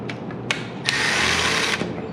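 A power drill whirs close by as it backs screws out of the door switch on a 1995 SS car interior, a short, steady run with a few sharp clicks at the start and end.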